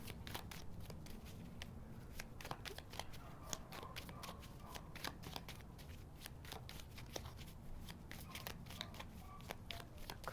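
Tarot cards being shuffled for a reading, a quiet close run of crisp riffling and flicking snaps repeating steadily, with no talk.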